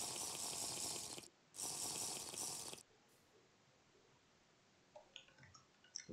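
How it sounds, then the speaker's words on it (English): Modded Minecraft vacuum pump slurping up water from a pool, two loud broadband gushing bursts of about a second each, then quieter scattered small splashy blips. "I'm using a vacuum pump."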